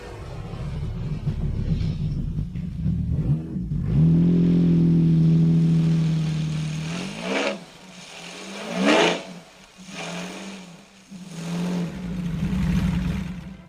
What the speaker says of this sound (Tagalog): sakay ng motorsiklo na may V12 na makina